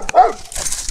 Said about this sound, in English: act like he's not barking at me if he starts barking again